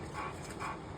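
A capricious dog whimpers faintly while being given a vaccination, a brief, thin whine that rises twice within about a second against a hushed background.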